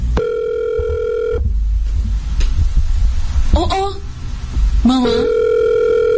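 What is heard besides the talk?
telephone ringing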